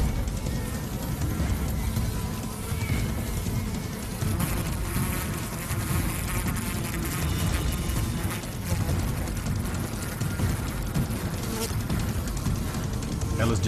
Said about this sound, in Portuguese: as abelhas dominam a invasora, mordendo e ferroando a vespa várias vezes.